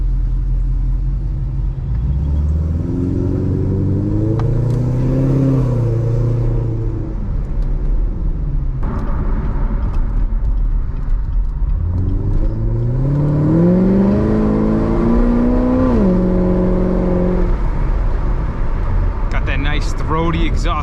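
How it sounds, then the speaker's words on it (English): A loud, close C7 Corvette Stingray exhaust with a deep throaty rumble that swells through two rising-and-falling revs. "Throaty exhaust sound."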